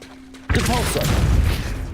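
A Depulso force spell from Hogwarts Legacy in a mine setting lands as a sudden loud blast that swells into a rumbling, crashing wash lasting over a second.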